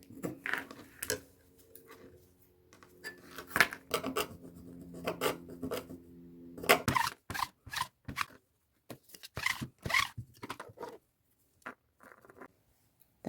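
A knife scrapes along the raw edges of fabric scraps to fray the threads, giving close, irregular bursts of dry rasping and scratching separated by quiet pauses, with no voices.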